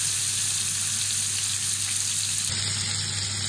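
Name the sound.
prawns frying in a pan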